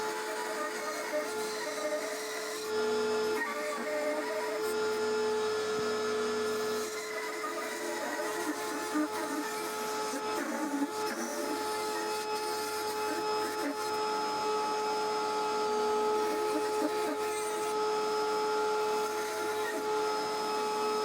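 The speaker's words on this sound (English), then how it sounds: "Then I cleaned up the curve on the belt sander." Belt sander smoothing the curved heel of a wooden ukulele neck, a steady motor whine with a buzzing tonal hum that holds evenly for about twenty seconds, with slight shifts as the wood is worked.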